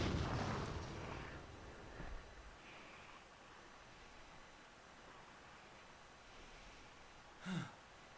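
A bomb blast from Megaman X Command Mission opens as a loud, broad burst that rumbles and fades over a couple of seconds, followed by quiet background and a brief later thud.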